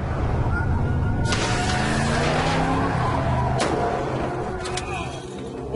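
A car engine roars loudly while tires squeal and skid across pavement, with sharp scraping bursts partway through and near the end, as the car leaves the road.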